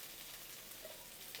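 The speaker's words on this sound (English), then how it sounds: "that's that water in the edamame that's making it sizzle" Edamame sizzles in a hot pan, a faint, steady hiss and light crackle over a short moment with no talking.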